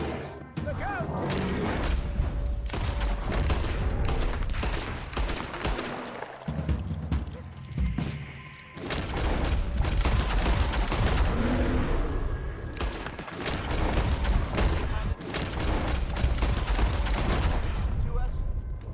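Gunfire in the video game Red Dead Redemption II, a dense stretch of repeated shots and loud bursts that continues nearly without a break, mixed with game sounds and voices talking over it.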